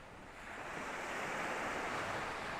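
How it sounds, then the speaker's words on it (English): Surf washing onto a pebble beach with some sand below cliffs, a soft, continuous rushing wash that swells slightly and stays fairly distant, mixed with light wind and no talk. "You can see it's a pebble beach with some sand."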